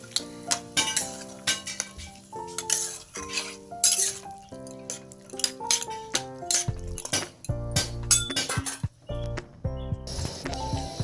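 Boiled peas being stirred into a potato masala for ghugni in a pan, with repeated clinks and scrapes of a spoon against the metal over a soft sizzle, while tonal music plays throughout.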